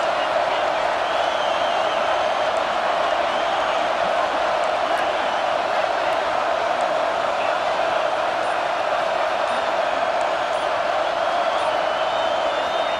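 Stadium crowd in a college football video game, a constant loud roar of cheering on a third-down red zone play, unbroken and even throughout, with no talk over it.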